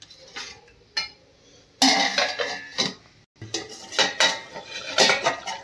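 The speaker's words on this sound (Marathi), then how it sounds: "तर हे चांगलं मिक्स करून ह्याला 7 मिनिटं आपण झाकण ठेवून मीडियम गॅसवरती शिजवून घेऊया." Metal lid set down on a pan of prawn masala for biryani, giving a few sharp clanks and scraping clatters of cookware, close and fairly loud, with no voices.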